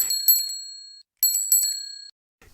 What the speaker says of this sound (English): Peppa rings her bell.